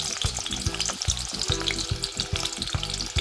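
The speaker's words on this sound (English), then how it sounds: "I'm going to let that fry off a bit so the oil, well, the flavor can go in the oil" Ginger and garlic fry in a little oil in a pot, a loud, close, dense sizzle with rhythmic stirring scrapes running through it.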